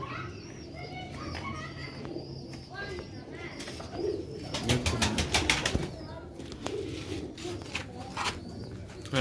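Pigeons of the Sialkoti Ali Wale breed coo softly amid a busy outdoor scene, with children's voices and chatter in the background and a burst of clattering in the middle.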